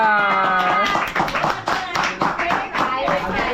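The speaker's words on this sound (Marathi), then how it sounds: "टाळ्या." People clap steadily at a lively home celebration, with sharp, rhythmic hand claps close by and voices chattering and calling out over them the whole time.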